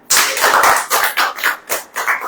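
A church congregation claps hands during a Hindi sermon, a loud burst of many hands followed by several rhythmic rounds of clapping close by, with no talking.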